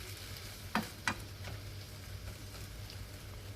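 Egg gravy simmers in a pan with a faint, even sizzle and bubbling, broken by two sharp clicks of a utensil early on, quiet and without speech.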